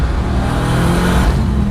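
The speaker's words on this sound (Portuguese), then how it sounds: "Eu tô com o escapamento aqui na minha orelha, eu tô ouvindo praticamente só esses 5 cilindros." A Dodge Viper RT/10 roars under acceleration with the exhaust heard very close, a loud continuous rumble that holds steady throughout with no speech.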